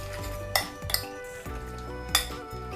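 Seasoned bok choy tossed with soy sauce, sugar and pepper is stirred by hand, a utensil scraping and clinking against the bowl or pan in a few sharp knocks over a soft, steady shuffling.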